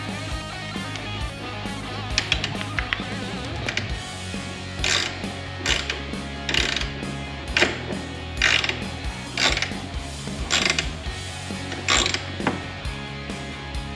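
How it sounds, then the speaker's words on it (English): Close ratchet clicking as 10 mm bolts are loosened from a CFMoto air filter cover, with bursts of rapid pawl clicks repeating in a regular rhythm and short pauses between them. "the first step is to take your two 10 millimeter bolts off"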